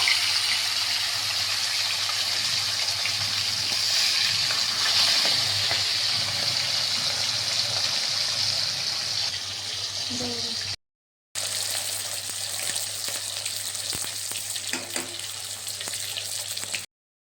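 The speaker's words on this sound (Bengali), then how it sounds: "সব কটা মাছ ভালো করে ভেজে তুলে নিলাম" Small young hilsa fish fry in hot oil, giving a loud, continuous sizzle and crackle that hisses steadily throughout, with a brief dropout near the end.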